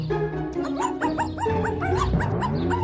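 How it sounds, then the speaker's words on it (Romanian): A dog gives a string of short yips and whimpering barks, close and fairly loud, one after another over a few seconds with a low background hum. "Of, câine prost!"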